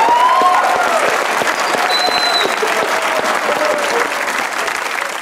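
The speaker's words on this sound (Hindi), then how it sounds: "एक बार तालियां हो जाए पाकिस्तानी कौम की।" Studio audience applause on a Pakistani comedy talk show, a dense steady burst of many hands clapping throughout, loud and sustained with faint crowd murmur beneath.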